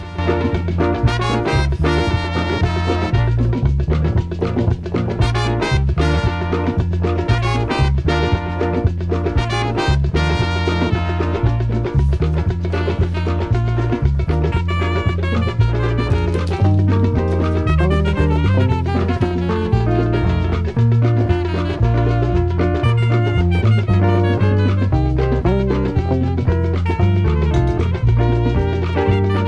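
A Nigerian music track plays from a recording, full-band and steady at a loud level throughout, with driving bass, percussion and layered melodic instruments, and no one speaks over it.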